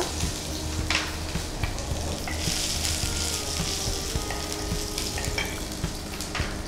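Ginger and garlic fry in a little refined sunflower oil, a steady close sizzle with occasional stirring scrapes running throughout, no talking.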